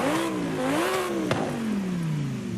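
A 6.2 V8 engine in Forza Horizon 5 revs up and down in a rising and falling wail, then settles into a steady descending tone, loud and close.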